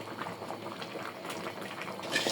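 Fish head curry with elephant apple simmering in a pot, a steady bubbling, hissing boil, close and even throughout, swelling slightly at the end.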